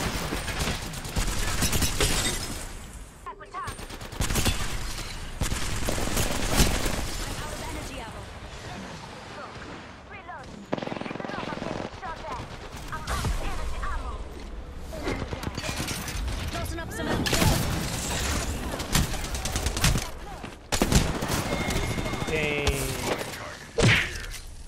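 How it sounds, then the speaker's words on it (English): Repeated bursts of video game gunfire and impacts come in rapid, loud volleys with short lulls between them, under ongoing talk from players. "Getting shot at."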